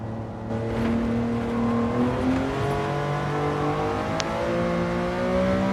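A race car in the Gran Turismo 7 video game accelerates at full throttle, its engine note rising steadily through the gears, moderately loud and alone without talk.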